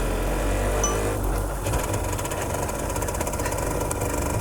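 Engine of a Japanese import motorcycle from a shipping container chugs and runs with a loud, rough, continuous drone after a push start, close and steady throughout.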